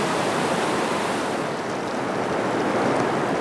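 The Corrich River, full of pink salmon and fished by black bears, rushes in a dense, loud, steady roar of flowing water, continuous and close, with no voices.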